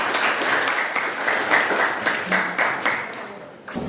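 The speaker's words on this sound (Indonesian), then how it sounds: "Beri tepuk tangan." A school class in Indonesia claps for a student's answer, a short uneven burst of applause with some brighter clatter that fades toward the end.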